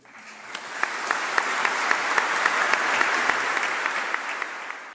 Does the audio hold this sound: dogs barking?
no